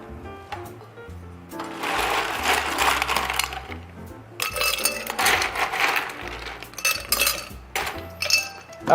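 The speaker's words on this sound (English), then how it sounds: "And we're gonna put some ice in here." Ice is dropped into a cocktail mixing glass, bursts of clattering and clinking cubes striking glass that come in two main rushes separated by short pauses.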